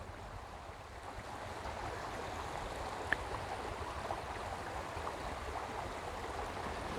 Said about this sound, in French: J'entends le murmure de la rivière qui s'écoule là juste devant moi.